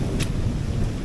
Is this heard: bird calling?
no